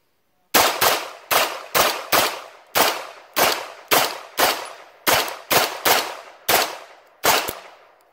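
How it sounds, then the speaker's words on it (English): A 9mm rifle built on a 5.56 mag converter fires a full 30-round magazine as a rapid string of loud, sharp reports, delivered in quick bursts of two or three shots with short gaps between them, and no voices are heard. "We dumped a 30 round mag."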